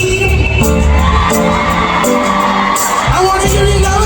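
A crowd at a live reggae dancehall concert in New York shouts and cheers loudly over booming music, a continuous roar of voices and sound system.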